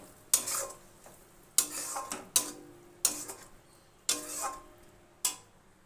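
A spoon works a ground paste of green chilli, ginger, cumin and mustard around a pan for a fish curry. About half a dozen distinct scraping strokes come at an uneven rhythm, fairly quiet and close, with near silence between them.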